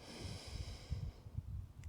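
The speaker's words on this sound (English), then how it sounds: "Nice deep breath in" A long, slow deep breath in during a low back pain stretching routine, soft and close with a low rushing texture, nearly two seconds long.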